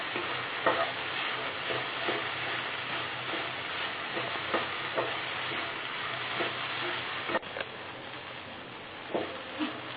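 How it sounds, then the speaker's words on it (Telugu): Sliced okra fries in oil in a pan, a steady sizzle with irregular scraping and tapping as it is stirred, close and moderately loud with no voices. "జిడ్డు కొంచెం ఇంకొద్దిగా ఉంది, అది మొత్తం పోయేదాకా కొద్దిసేపు వేయించాలి"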